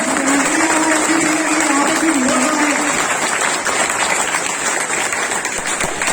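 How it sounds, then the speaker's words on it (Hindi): Loud, sustained applause from a crowd at a company reward and recognition ceremony, thick continuous clapping throughout, with a faint background tone and a brief murmur of voices early on. "एक बार सभी के लिए अपने लिए जोर से तालियां बजाएं।"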